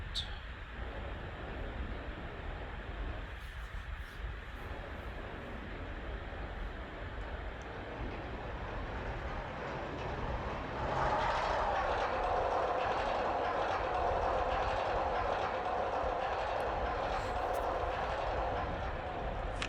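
A steady rumbling rush of a roller coaster train rolling along its track in the video game RollerCoaster Tycoon 2 continues throughout, growing slightly louder and brighter partway through, with no talking.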